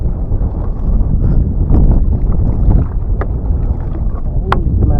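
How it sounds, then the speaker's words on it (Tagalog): Strong northeast monsoon wind at sea roars and buffets the microphone in a constant low rumble, with faint splashes and creaks from a small boat hauling a crab net. "Ay, malakas pa rin ang amihan ngayon."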